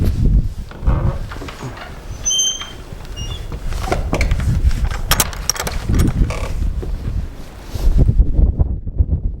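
Strong, cold wind buffets the microphone outdoors in Alaska, roaring and gusting steadily throughout with low rumbling blasts and occasional rattles, loud and close.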